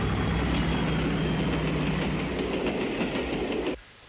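A train runs along the rails with a loud, steady rumble and rhythmic clatter close by, then cuts off abruptly just before the end.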